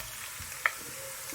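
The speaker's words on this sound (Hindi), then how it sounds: "और इनको भी आधे मिनट के लिए फ्राई करेंगे।" Dry ground spices fry in oil with ginger-garlic paste that has already been browned, giving a steady, close sizzle with light stirring and no voices.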